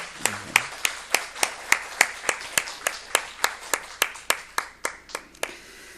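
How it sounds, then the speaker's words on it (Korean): A church congregation at a Sunday morning service claps in unison to welcome a visiting guest: about twenty crisp, evenly spaced claps in a steady beat, in a reverberant room, slowing slightly near the end. "우리 박수로 한번 축복하겠습니다"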